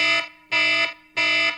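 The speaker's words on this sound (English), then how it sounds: "we rely a lot on very sharp, harsh alarms to just instantly wake us up" A sharp, harsh electronic alarm beeping in three loud, evenly spaced, sustained tones, close and alone with no voices.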